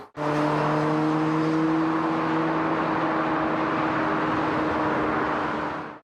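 A loud, steady motorcycle engine roar holds a constant droning pitch for several seconds before cutting off abruptly, close by and alone.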